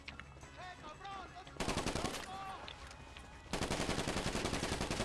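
Rapid bursts of automatic gunfire ring out in Grand Theft Auto V. Two sustained volleys of close, loud shots cut in over a quieter stretch where a voice speaks briefly.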